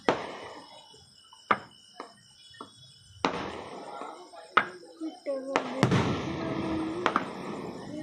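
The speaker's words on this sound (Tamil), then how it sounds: "இப்போ விடுறது ராக்கெட் விடுறாங்க." Rocket fireworks being launched at a celebration, with a series of sharp pops and bangs spaced irregularly, some followed by a rising whistle and hiss, fairly near, with people's voices faintly in between.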